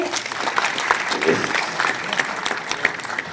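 An audience at a National Milk Day event bursts into brisk, sustained clapping, many hands at once in an even patter for a few seconds.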